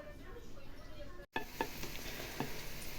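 Onion frying in a pan while cabbage-filled crepes are cooked in a village kitchen, a soft steady sizzle with faint stirring scrapes, heard close and fairly quiet.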